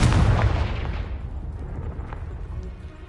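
A single loud explosion from a Confringo blasting spell in a wizarding video game, a close, heavy burst that hits at once and then rumbles and decays over about three seconds.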